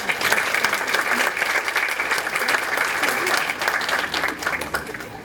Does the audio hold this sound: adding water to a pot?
no